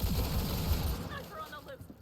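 Dense, sustained gunfire in Cyberpunk 2077 during a firefight, heavy and continuous at first, then thinning into scattered shots and metallic pings as it tapers off.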